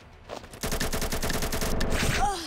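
AK rifle fire in a Turkish-language video game, a rapid run of automatic shots following a brief lead-in, rattling steadily for nearly two seconds at moderate loudness before stopping.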